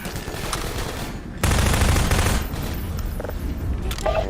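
A submachine gun fires in a video game in rapid, dense automatic bursts, loud and close, with a sharper, heavier volley kicking in about midway.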